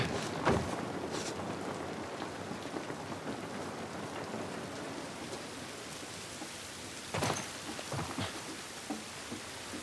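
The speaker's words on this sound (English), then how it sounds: "This rain ain't gonna do us any good." Steady rain pours down in a The Last of Us Part 1 game scene, with a couple of sharp thunder cracks around the start and near the end, no voices.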